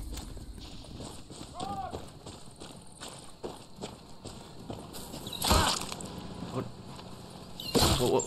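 Horse hooves clip-clop in an uneven trot against a busy Far Cry 6 game soundscape, with occasional louder bursts and a voice speaking over it.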